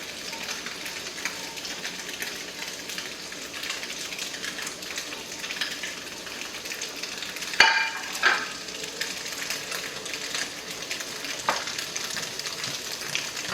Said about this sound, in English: Now I will add our cabbage,